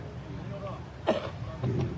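A man with a heavy cold, speaking at a party workers' meeting in Satalkheri, Ramganjmandi, gives a single quick throat-clearing cough amid faint hall ambience and a little talk.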